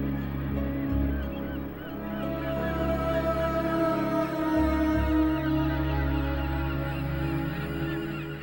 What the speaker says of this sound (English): which collectively provide the world's largest breeding colony of gannets